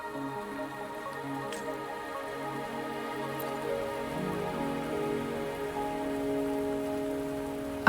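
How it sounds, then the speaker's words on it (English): Rainfall patters without pause in Wuthering Waves, a dense, even hiss of drops that runs the whole time beneath sustained gentle music tones, no voices present. "Are you trapped here by the rain?"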